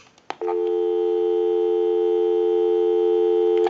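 A Stromberg Carlson 1157 telephone plays a busy signal after a brief click, holding a steady tone from start to finish, loud and clear with nothing else audible.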